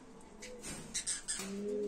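Birds in an indoor aviary coo softly, with low throaty coos and a few brighter chirps overlapping close by in a quiet, gently reverberant space, no speech.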